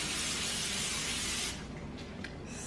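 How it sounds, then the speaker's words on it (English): Cooking spray hisses steadily onto a baking pan for about a second and a half, close and continuous, then cuts off into quiet kitchen background with a faint click. "I'm gonna go ahead and spray this pan"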